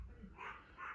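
A faint, distant dog gives a couple of short barks or yips in quick succession.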